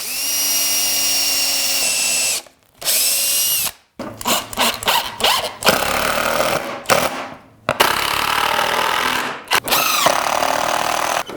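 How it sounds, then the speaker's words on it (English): Power drill with a combination pilot and countersink bit boring holes through 3/4 inch plywood for number 8 one-inch screws, loud whining spin-ups broken by short stops and bursts of grinding as the bit cuts into the wood. "drill a pilot hole and a countersink at the same time for these number 8 1-inch screws to go through the 3/4 inch plywood"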